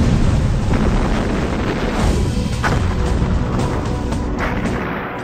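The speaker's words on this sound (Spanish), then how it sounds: "Así comienza la explosión, que atraviesa toda la superficie uniendo las dos piezas." An explosion during explosive welding joins two metal pieces, heard as a sustained loud roaring blast rumble that fades slightly toward the end.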